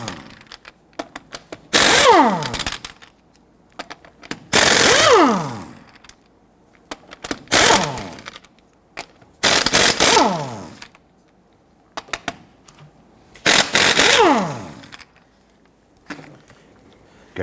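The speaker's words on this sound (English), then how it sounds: "Using a 19mm socket, I'm going to go ahead and loosen and remove our lug nuts." A 19mm socket on an impact gun loosens and removes the front wheel lug nuts on a 2006-2010 Hummer H3, five loud, close bursts of whirring hammering, each about a second long, separated by short pauses.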